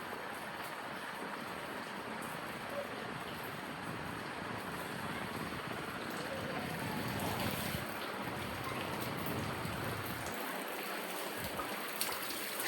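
Rainwater flooding a courtyard gives a steady, dense wash of rushing water and patter, constant and moderately quiet, running unbroken throughout with no talk.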